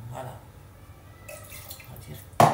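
Water poured into a pot while cooking a meatless potato and onion dish: a low, steady background, then a short, loud splash right at the end.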